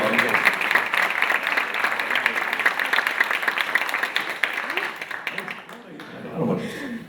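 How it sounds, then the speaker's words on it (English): Audience applauding patient speakers at a scoliosis event, sustained dense clapping for about five seconds that thins out, with a voice starting to speak at the end. "let's give these folks a round of applause"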